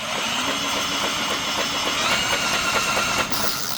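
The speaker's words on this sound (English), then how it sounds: "It's very convenient because you can go do like this, and then when you stop, it doesn't try to take the drill out of your hand." A power drill with an extension drives screws on a Yard Machine snowblower during a home repair, a steady close whir running continuously with small changes in pitch and a brief dip near the end.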